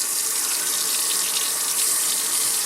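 Hot water runs steadily from a tap into a sink, cleaning a dirty freezer part during a leak repair; a continuous bright hiss and splash, close and alone.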